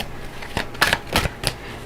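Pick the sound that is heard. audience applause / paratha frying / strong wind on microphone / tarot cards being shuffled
tarot cards being shuffled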